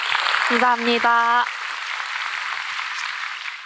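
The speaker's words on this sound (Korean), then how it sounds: "박수 한번 주세요" A brief spoken thanks from a man on stage is followed by an audience at a Korean lecture event breaking into applause, a soft, even wash of clapping that gradually fades toward the end.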